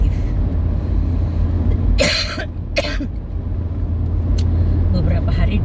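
A man coughs twice in sharp, close bursts and then gives a faint throat clear. Low vehicle rumble runs underneath, and he talks around the coughs.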